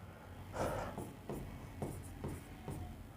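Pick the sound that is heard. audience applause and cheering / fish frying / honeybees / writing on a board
writing on a board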